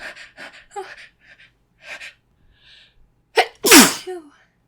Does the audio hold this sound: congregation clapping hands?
no